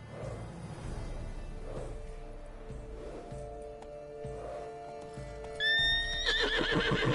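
Hooves clip-clop at a steady rhythm from a horse in The Witcher 3 game, then a sharp, loud neigh bursts out near the end, with no talk.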